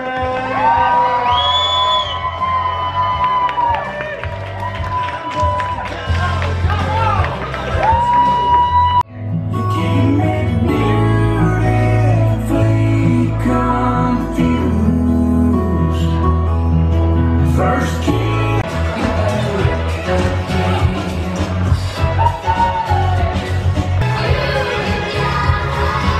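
Wedding reception guests in cold North Carolina cheer, whoop and shout for the newly introduced couple, a loud, sustained wall of crowd noise that swells after a brief dip and carries on steadily.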